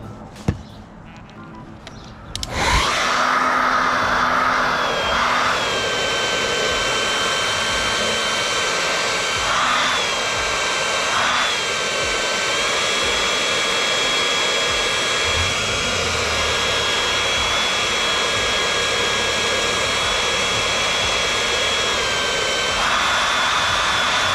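A heat gun blows a loud, steady rush of hot air onto a patch on a 1997 Coleman pop-up camper, starting abruptly after a brief quiet moment and holding a constant whine with slight pitch wavers.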